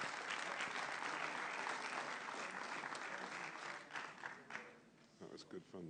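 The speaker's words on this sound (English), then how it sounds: "Ladies and gentlemen, can you give everybody a big round of applause?" A conference audience gives a sustained round of applause for the contenders, dense clapping filling the room and thinning toward the end as a few scattered claps and voices poke through.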